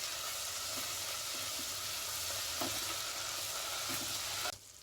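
Green chillies and ginger-garlic paste frying in a pan for chicken biryani, a steady dense sizzle running continuously and loud, with a few faint stirring knocks, cutting off abruptly near the end.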